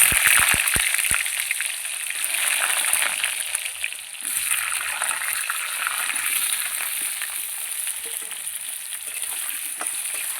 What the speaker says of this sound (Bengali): আমি এই ফোড়নের মধ্যে আলুটা ভেজে নেব।